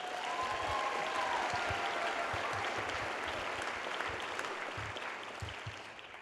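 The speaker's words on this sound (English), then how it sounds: "So let's give a round of applause for our classical majors joining us." An audience breaks into dense, sustained applause, with many hands clapping steadily. The applause fades gradually toward the end.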